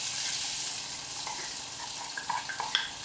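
Crushed garlic and ginger dropped into dark-browned onions frying in a pan, a steady hissing sizzle with a few small pops and spatters toward the end.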